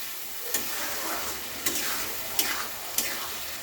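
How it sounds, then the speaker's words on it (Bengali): Masala for a katla fish head curry frying in a pan with a splash of water, a bright steady sizzle broken by four spaced scrapes of a spoon stirring along the bottom. "একটুখানি সামান্য জল দিচ্ছি দিয়ে এইভাবে নাড়াচ্ছি"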